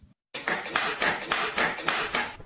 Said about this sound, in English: I can clap.